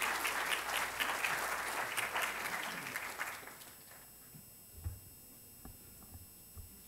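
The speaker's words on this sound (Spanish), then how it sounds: "Le brindamos también un fuerte aplauso y quedamos atentos a sus palabras." Seminar audience applauding a speaker, a soft steady clatter of many hands that fades away after a few seconds, leaving a quiet room with scattered small knocks and shuffles.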